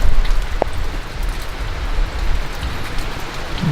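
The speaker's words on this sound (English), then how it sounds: "Looks like it's starting to rain again." Rain falls in a forest at Shawnee National Forest near Dutchman Lake, a steady close hiss of drops with a few sharper taps, loud and continuous with no talking.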